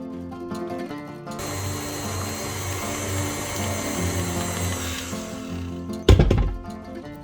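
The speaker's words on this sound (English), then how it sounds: "I'm gonna just throw it into the stand mixer and let it do its thing" Stand mixer whirring steadily as it beats Biscoff cheesecake filling, a continuous mechanical drone with rhythmic rattling that ends in a louder clunk near the finish.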